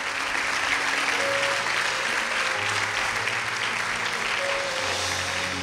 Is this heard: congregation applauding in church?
yes